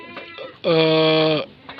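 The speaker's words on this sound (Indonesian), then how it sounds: "Ini kambingku sendiri, kambing Pak." A single loud, drawn-out goat bleat close by, steady and nasal for almost a second, with faint voices and background murmur before and after it.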